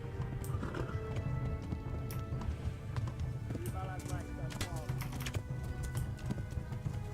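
Galloping horse hooves in the video game Kingdom Come: Deliverance pound in a fast, steady rhythm up close, with a brief whinny and what sounds like a voice faintly over the hoofbeats.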